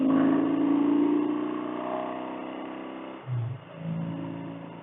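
A Triumph Bonneville T140V motorcycle engine, with carburetors repaired using toothpaste, runs close by, rising and falling in pitch as it idles and revs steadily, with a short louder blip partway through.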